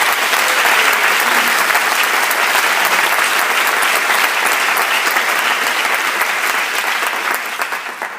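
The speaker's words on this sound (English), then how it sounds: "Please give all of these sponsors a round of applause." A gala audience applauds the event's sponsors: dense, sustained clapping from a large crowd that holds steady for several seconds and then starts to taper off at the end.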